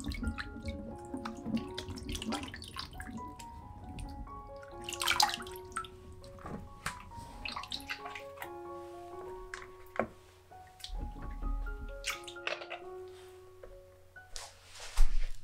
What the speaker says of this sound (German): Als erstes wasche ich etwa 2 Kilo Zwetschgen bzw. Pflaumen gründlich ab und lasse sie in einem Sieb abtropfen